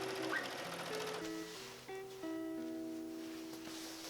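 A sewing machine stitching a dress skirt onto its bodice, running in a continuous whirring stretch with shifting tonal hums, close and fairly quiet, with no talking.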